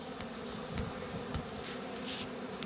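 Honey bees buzz steadily around an opened hive during a Varroa treatment, a dense close-up hum with individual bees zipping past the microphone, and no voices.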